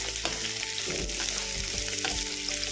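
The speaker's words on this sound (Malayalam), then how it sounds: "ഇവിടെ ആയിട്ടുണ്ടോ സവാള ചേർത്ത് മിക്സ് ചെയ്ത്" Chopped onions sauté in oil in a pan for paneer masala, a loud, steady sizzle and crackle close by, with occasional scrapes of stirring and no talk over it.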